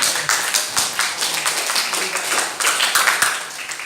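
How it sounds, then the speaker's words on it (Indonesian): A classroom group gives a short burst of applause for a student group, dense overlapping clapping from many hands at close range, a few sharper claps standing out. "beri aplaus untuk kelompok F"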